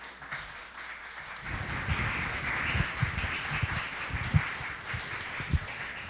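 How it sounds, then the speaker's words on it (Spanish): Audience applause for the guest speaker at a corporate change-management master class, a steady wash of many hands clapping that swells after a quiet start and continues throughout, with scattered sharper claps. "les pido un fuerte aplauso para él"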